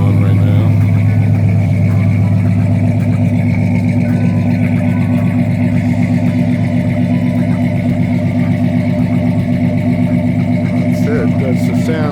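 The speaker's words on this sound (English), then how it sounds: "That's the sound of the 350," A 1981 Chevy truck's 350 V8, about 300 horsepower, runs with the choke on, giving a loud, steady, rumbling idle with a fast even pulse throughout, heard up close.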